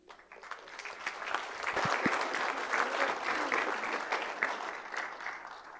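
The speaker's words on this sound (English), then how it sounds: "Please give a big round of applause for Luke Bency." A lecture audience bursts into sustained, steady clapping that swells and holds for several seconds, heard from within the room.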